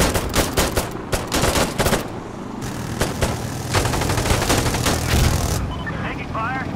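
Sustained machine-gun fire and scattered shots ring out in the Insurgency Sandstorm combat game, loud, dense bursts with brief gaps, and radio-style voices talking over the shooting.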